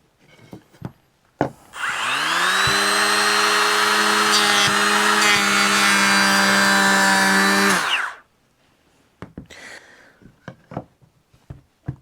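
A Bosch 12V cordless planer fitted with a 4 amp hour battery spins up and runs at a high, steady whine for about six seconds, then winds down, with some clicks and handling noises before and after.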